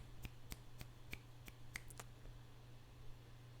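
Finger snaps used as jazz-style clapping: about eight sharp, dry snaps in a loose, steady rhythm over a low background hum, fairly faint and close, with no talking.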